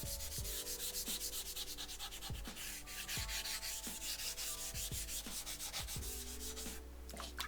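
A Rust Eraser block is rubbed back and forth across a whetstone to clean it, making a steady, close gritty scrubbing in a regular rhythm of strokes. No one speaks.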